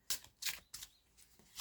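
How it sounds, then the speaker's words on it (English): Deck of tarot cards being shuffled by hand in a quiet room, a few soft, crisp riffling bursts in uneven rhythm, close and faint. "give these cards a shuffle"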